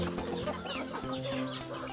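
A flock of chickens clucks busily while feeding on ripe banana, with overlapping close, excited calls forming a steady noisy chatter throughout.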